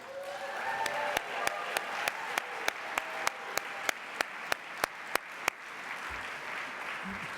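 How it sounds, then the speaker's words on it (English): Sustained applause fills a room at a Heroes in Health awards dinner honoring a recipient, with a steady run of sharp, evenly spaced claps standing out over the crowd's clapping before it thins near the end. "we need to give one more incredible round of applause"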